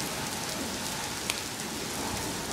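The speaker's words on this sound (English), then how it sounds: "it's pouring rain." Pouring rain during a thunderstorm in Colorado hisses steadily and evenly, a soft, continuous wash of drops on surfaces with no talk.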